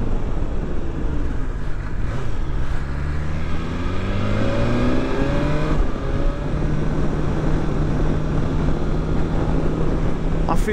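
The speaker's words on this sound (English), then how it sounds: "See, that was third gear pinned" A 2020 BMW S1000XR motorcycle pulls hard at full throttle in third gear, its engine note climbing steadily beneath heavy wind roar that runs the whole way through.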